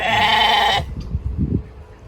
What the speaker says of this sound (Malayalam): നല്ല ആടല്ലേ? നമ്മുടെ നാട്ടിലെ ആട് പോലെ അല്ലല്ലേ?